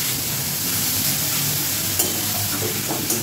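Grated carrots frying in ghee for carrot halwa, giving a dense, continuous close sizzle with a couple of faint stirring clicks and no talking.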